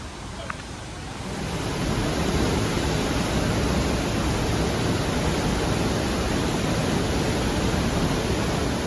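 A waterfall beside a hiking trail in Vermont gives a loud, steady, broadband rushing roar that swells in within the first second and holds without a break.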